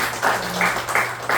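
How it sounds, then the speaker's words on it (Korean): A church congregation gives welcoming applause during a Sunday service, a moderate patter of clapping that swells in soft waves over a steady low hum. "환영의 박수, 감사의 박수."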